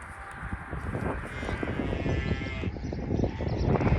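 Young lambs bleat outdoors on a farm, several overlapping high, wavering calls at close range over steady rustling and bustle, growing louder toward the end.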